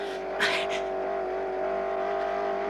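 A racing car engine drones at a steady, loud pitch with no clear gear changes, and a brief hissy burst near the start.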